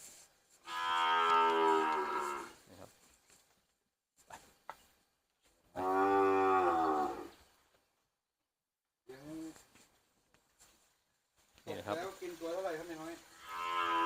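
Cattle on a Thai beef farm keeping small-framed, short-fattening cows moo in three long, loud calls spread across the stretch, with quiet gaps and a few faint knocks between them.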